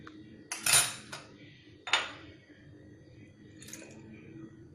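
Spoon clinking against a pot while mixing sugar and star anise into a home-cooked beef bone soup (sup tulang), a few sharp metallic taps and scrapes close by with quiet pauses between, no talking.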